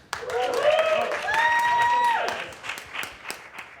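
Excited whoops and cheering voices rise over a few scattered claps from a workshop audience responding to an improv performance, the hooting calls sliding up and down before fading into light clapping.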